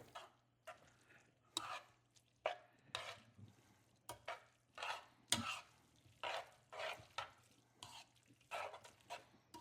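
Pasta being tossed into shrimp scampi sauce with tongs in a pan, a series of soft, rhythmic stirring and scraping strokes with a gentle sizzle underneath, close and moderately quiet.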